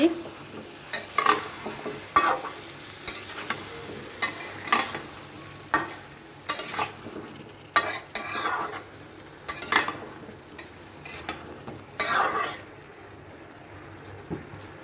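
Pumpkin fries in a pan on the stove while a spatula stirs it, making repeated close scraping and clattering strokes in bursts over a quiet steady sizzle.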